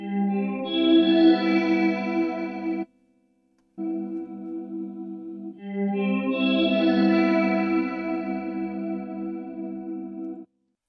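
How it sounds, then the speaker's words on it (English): Tonal synth part run through a chorus effect from the Eventide Physion mkII plugin, giving a shimmering, widened sustained chord in two phrases split by a short pause; no speech. "And at the bottom we've got the tonal part. And that's had a chorus added to it with these settings."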